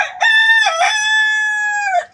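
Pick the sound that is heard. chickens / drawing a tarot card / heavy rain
chickens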